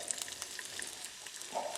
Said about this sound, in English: we throw some virgin olive oil in the pan, and now the sausage